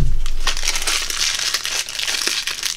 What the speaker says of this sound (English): I'm going to cut off the tip.